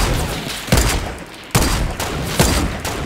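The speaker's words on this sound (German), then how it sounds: "Schieß auf den Stein" Several gunshots fired at a rock in Fortnite, arriving in separate sharp bursts roughly every three-quarters of a second over steady game background noise.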